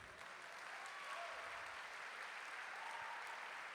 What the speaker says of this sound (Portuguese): Ninguém vai aplaudir Jesus?